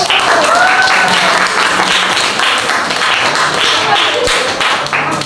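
Sustained applause from a school classroom, steady and dense clapping filling the whole stretch, with some voices mixed in underneath.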